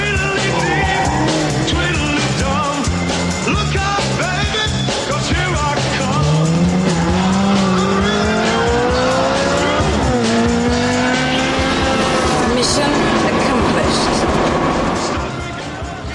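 A Ferrari 360 Challenge race car sliding on a track, its engine loud and close, with rising and falling revs, long tire squeal and skidding throughout, fading slightly at the end.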